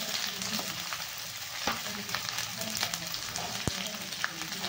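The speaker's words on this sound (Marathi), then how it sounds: "त्याच्यात आपल्याला घ्यायचा आहे कांदा टाकून" Onion frying in oil with cumin and fresh curry leaves for kanda poha, a continuous close sizzle with occasional stirring knocks and scrapes, no voices over it.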